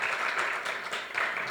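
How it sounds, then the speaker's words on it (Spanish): Audience at a family education congress applauding to welcome a speaker, a steady, moderately loud wash of clapping from many hands with no talk over it. "les pido que le den un aplauso para dar la más cordial bienvenida"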